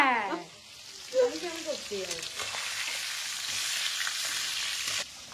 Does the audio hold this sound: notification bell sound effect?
no